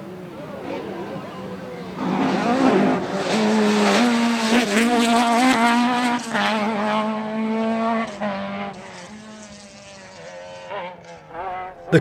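A rally car on the Tour of Mull 2008, geared for about 150 mph, is driven flat out. The engine note is loud and close, climbing through the revs with gear changes, with faint tire noise and a voice calling pace notes underneath.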